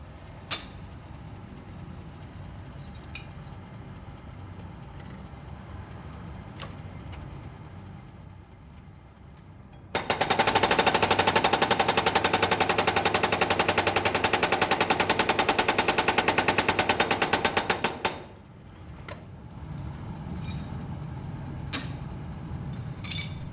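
A traditional industrial file cutting machine hammers teeth into steel files held in a transport carriage, giving a loud, rapid, continuous metallic chatter of blows for about eight seconds amid quieter workshop noise before and after.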